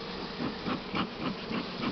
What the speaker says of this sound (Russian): Пчел дымокуром гоняю.